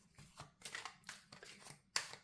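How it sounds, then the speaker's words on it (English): Tarot cards being shuffled give off soft, papery riffling and slapping bursts in an irregular rhythm, quiet and close, with no one speaking. "Let me give these cards a good shuffle."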